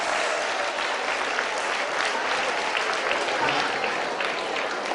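Brisk audience applause for a parent who answered a quiz question correctly, a steady burst of clapping from a crowd, with some speech mixed in.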